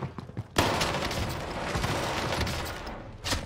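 Rapid gunfire on Rebirth Island in a Call of Duty-style shooter, a sharp burst opening a sustained fusillade of close shots that runs nearly the whole time before another loud crack at the end.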